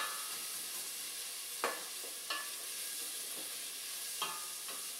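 Onion softening in a pan for mushroom risotto with red wine gives a faint steady sizzle, with a few brief sharp spoon scrapes as it gets a quick stir, close but quiet and without talk.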